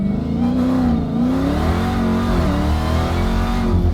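A Dodge Demon 170 accelerating at half throttle near cornfields, a loud close engine growl rising and falling in pitch as the car pulls hard, with no talking over it.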